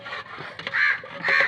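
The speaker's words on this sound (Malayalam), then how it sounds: "ഇവിടെ നല്ല കാക്ക ശല്യം കേട്ടോ കാക്ക ഉണ്ടല്ലേ" Crows caw nearby, a couple of harsh calls with short clattering sounds between them, no voices.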